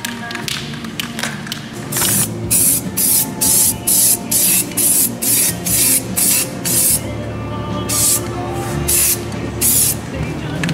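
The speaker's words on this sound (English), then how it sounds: "Using rust-oleum truck bed coating." Rust-Oleum truck bed coating sprayed from a can onto a van, first a steady hiss, then a long run of regular on-off spray bursts, close and loud, with no talk.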